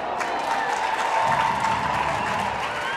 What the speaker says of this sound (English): Crowd here in the stands getting loud for that layout bid attempt from Austria